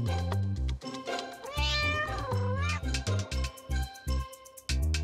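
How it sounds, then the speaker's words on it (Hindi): A cat in a Hindi children's moral story meows several times in quick, close, loud cries, with brief speech between them. "ये रही आपकी बिल्ली।"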